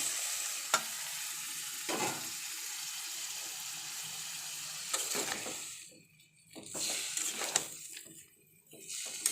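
Boiled jackfruit pieces tipped into frying spices and stirred in a kitchen pan, a steady hiss of hot oil with intermittent scraping knocks and a couple of brief lulls, up close.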